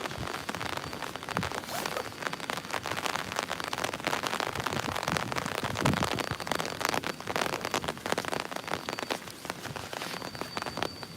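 Rain falling steadily near Starbase in Boca Chica, Texas: a dense, constant patter of drops striking surfaces close by, uniform in level throughout, with no talk.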